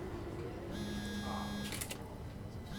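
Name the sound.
phone vibrating in the video game SOMA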